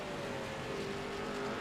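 Street stock race cars, including a Ford Thunderbird, in an iRacing game at Langley: a brief, steady engine drone with a sustained tonal whine, even and moderately loud, with no talking.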